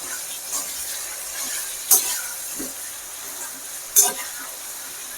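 Large brinjal pieces sauté in a pan for Chettinad brinjal mandi, a soft continuous sizzle with a few sharp scraping or clanking bursts of the spoon, under someone talking.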